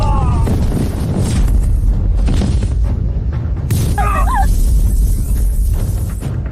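A powerful cannon blast in a zombie-apocalypse drama, a loud booming explosion with shattering debris and rumble, followed by crackling and a brief warbling electronic effect, with no speech over it.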